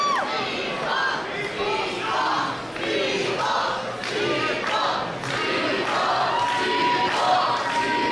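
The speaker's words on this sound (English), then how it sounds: "Crowd rallying behind Speedball Mike Bailey here" A large professional wrestling crowd roars, cheers and chants steadily throughout, with rhythmic clapping surges and a commentator talking faintly underneath.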